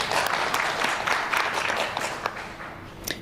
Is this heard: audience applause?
yes